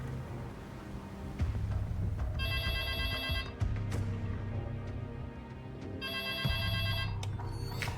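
A telephone rings in the video game Broken Arrow, with two bursts of electronic bell trills several seconds apart over a low rumbling background and faint mechanical noises.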